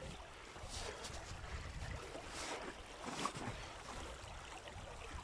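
Spring meltwater from melting snow floods and flows across village ground, a faint, steady rushing wash with no voices.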